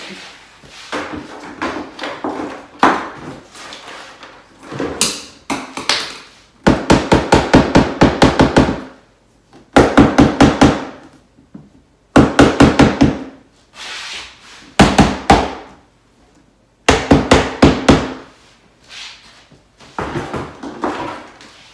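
Repeated bursts of rapid hammer blows on wood while building pantry shelves, close and loud, in quick rhythmic runs separated by short pauses, with no talking.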